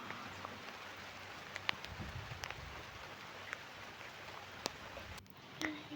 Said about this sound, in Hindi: दोपहर में आने लगी बारिश,